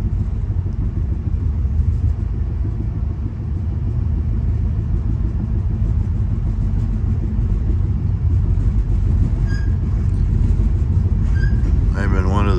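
Continuous low rumble and rolling rattle heard from inside an open-section lower-berth sleeping car on VIA Rail's Canadian passenger train along the Thompson River, loud and steady with brief squeals near the end; no talk.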